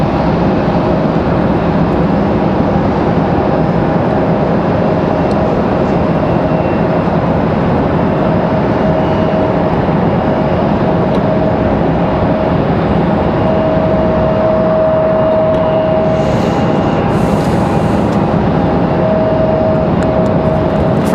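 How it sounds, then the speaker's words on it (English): A Frontier Airlines airplane taking off from the runway at RDU airport, a loud, steady broadband engine roar that holds throughout with a faint tonal whine, no talk. "Frontier finally getting off the runway here."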